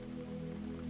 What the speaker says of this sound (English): watching the rain weave its silver curtain between you and the rest of the world